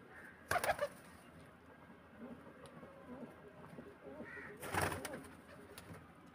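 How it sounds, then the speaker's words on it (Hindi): Black pigeon, a high-flying breed, heard as a low, soft coo under rustling background noise, with two louder bursts of flapping or handling near the start and end. "ये वन क्लास का कबूतर है,"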